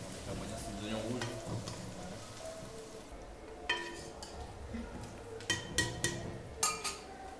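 Red onions frying in oil with bay leaf and pepper during an Indian cooking class in Ranakpur, a constant sizzle with a louder utensil clatter and scraping toward the end and faint voices early on.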